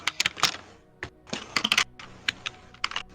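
Fast, irregular clicks of typing on a phone sit close to the microphone, sharp bursts in quick clusters with short gaps, rattling like a typewriter.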